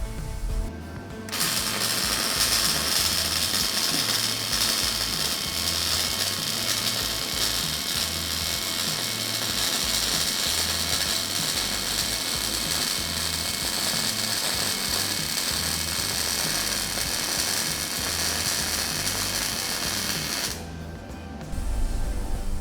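Steady, continuous crackle and hiss of MIG welding a fillet weld, loud and close, running unbroken for about twenty seconds with a brief quiet before and after.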